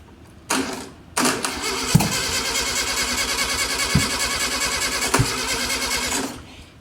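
A VW Golf engine, rigged without fuel, cranks steadily for about six seconds with a churning, rhythmic starter drone and a few sharp firing pops as it catches ignition and puffs through the exhaust, close and loud.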